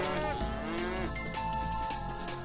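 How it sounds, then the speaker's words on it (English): Cows moo in LittleBigPlanet 3, a low drawn-out bovine call followed by a second fainter one, sitting under steady game background sound with no talk. "I think they're just random cows."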